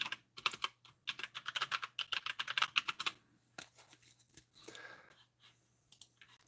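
Close, fast typing on a computer keyboard at a streaming desk, bursts of sharp key clicks in uneven runs with brief pauses between them.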